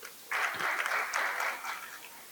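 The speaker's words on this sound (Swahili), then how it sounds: "Tupige makofi kidogo." Short burst of audience applause at a Zanzibar public leadership forum, starting abruptly and holding steady for about two seconds, moderately loud and fairly close.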